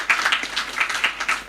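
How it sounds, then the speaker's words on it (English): Audience applause for speakers at a data and statistics conference session, a dense steady wash of many hands clapping at moderate level throughout, with no one talking over it. "A round of applause to the speakers."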